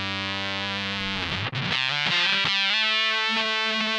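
An electric guitar played through an Ooh La La Synth Mangler fuzz pedal with the gain turned up gives a thin, biting, heavily distorted tone. A sustained note shifts pitch, a brief choked gap follows, then new fuzzy notes ring out and decay.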